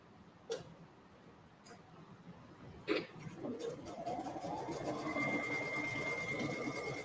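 A sewing machine stitches tiny buttonholes on kids' boardshorts. A couple of sharp clicks come first, then the motor rises into a steady, continuous whirring hum for the rest of the clip.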